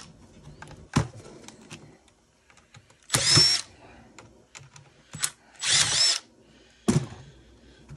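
A power drill backs screws out of an e-waste circuit board in short whirring bursts, about four loud spurts, each separated by clicks, faint handling noise and quiet gaps.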